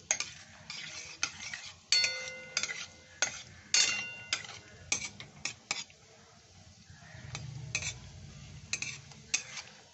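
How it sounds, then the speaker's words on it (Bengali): Cashews frying in a pan while a spoon stirs them, giving repeated sharp scraping clatters over a soft sizzle, close and fairly quiet. "কাজুটা দিয়ে একটু ভাজছি।"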